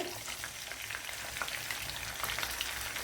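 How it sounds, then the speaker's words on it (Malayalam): Pieces of vaala fish frying in a pan, a steady, fairly soft crackling sizzle with small popping bursts throughout, alone without speech. "ഇതിനെ ഒന്ന് ഫ്രൈ ചെയ്തെടുക്കണം"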